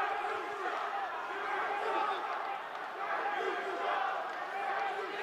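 Wrestling arena crowd at an FWE show reacting with a steady, dense roar of chatter and shouts that swells and dips throughout.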